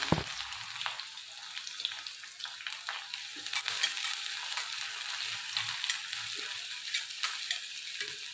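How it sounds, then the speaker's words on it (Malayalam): Continuous crackling sizzle of chopped onions frying in hot oil, bright and steady with small pops, close up and without talk. "എണ്ണ ചൂടായി, ഞാൻ അതിലേക്ക് ഉള്ളി ഇട്ട് കൊടുക്കുന്നുണ്ട്."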